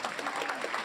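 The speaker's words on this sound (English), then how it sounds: "yes, that's worth applause." An audience at a film prize event for a Frankenstein film applauds steadily at a distance, a dense wash of clapping throughout with no voice over it.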